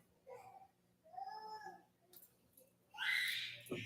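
A baby cries and whimpers with short, rising wails in fairly quiet surroundings, building to a louder, sharper cry near the end.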